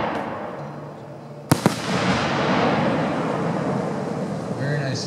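Green strobe firework shell from a 1.3-inch shell display bursting with a sharp crack, followed by a sustained crackling, fizzing strobe that lingers for several seconds.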